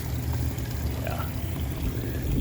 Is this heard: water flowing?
yes